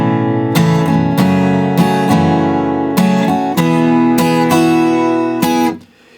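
An acoustic guitar strums the bridge chords of a song, bright ringing strums in a steady rhythm with accented downstrokes, close and loud, ending in a quick fade.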